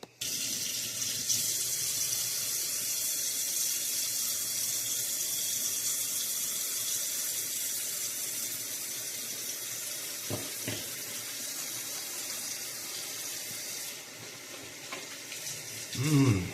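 Water runs loud and steady from a tap as mustache wax is washed out, a continuous hiss that thins and stops near the end, with a short clatter at the close.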